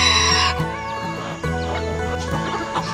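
A Polish carijó rooster and sura hens in a backyard pen make loud clucking and squawking calls, some overlapping, close by.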